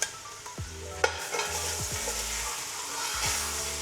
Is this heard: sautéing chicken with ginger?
yes